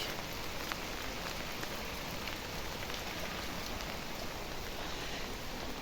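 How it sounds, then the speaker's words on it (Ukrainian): Steady rain drums on a surface after a night of rainfall over a garden, a dense, even patter of many drops with a few sharper taps standing out, soft and continuous with no voices. "О, як тарабанить."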